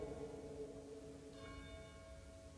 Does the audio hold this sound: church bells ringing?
yes